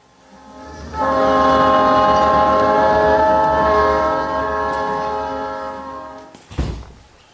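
A train rumbles past with a long, loud horn blast that holds for several seconds, then fades, followed by a heavy thunk.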